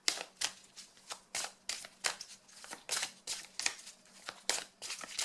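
Dragon oracle cards are shuffled and drawn by hand. The papery riffles and slaps come close and crisp in a steady, rapid rhythm of bursts.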